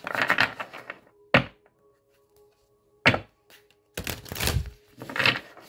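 Tarot cards shuffled by hand in separate close bursts, with short riffles and bridges broken by quiet gaps, and a longer shuffle near the end, heard alone.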